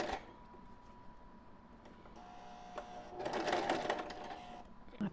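A sewing machine backtacks and then stitches a half-inch seam on a fabric band, with a steady close mechanical whir that starts, pauses briefly and then runs faster and louder.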